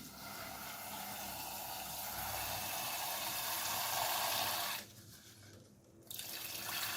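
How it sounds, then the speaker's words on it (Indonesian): A kitchen tap runs in a steady, faint stream into a rice pot for Sundanese nasi liwet, pausing briefly before the flow resumes. "Langsung tambahin air dari air keran aja"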